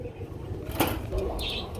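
Pigeons at a pigeon farm give short, soft coos with a brief flutter of wings, close by over a steady low background hum.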